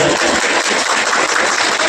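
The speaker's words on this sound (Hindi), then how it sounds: "एक जोरदार ताली होनी चाहिए" An audience claps for guests being honoured on stage at a Gyan Jyoti Public School function. The applause is dense, loud and steady, a continuous wash of many hands that fills the whole moment with no speech over it.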